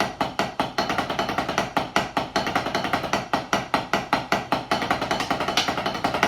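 Quad tenor drums played in a rhythmic exercise, with rapid, evenly spaced sharp strikes and scrapes in steady patterns throughout, close and loud with no talking.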